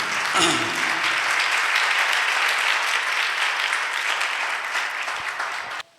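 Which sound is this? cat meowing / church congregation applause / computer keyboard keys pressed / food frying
church congregation applause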